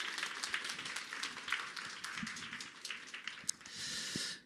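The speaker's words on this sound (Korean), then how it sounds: "소중한 랠리를 해주신 두 분께 큰 박수 한번 부탁드리겠습니다" A seated audience at a Korean training session applauds two presenters, a steady, moderately distant wash of many hands clapping that fades out at the end.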